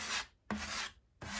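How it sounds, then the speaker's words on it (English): A trowel squashing drywall adhesive under plasterboard, three close, distinct scraping strokes separated by short pauses. "Get a clean trowel and just squash that stuff that's underneath to the edges"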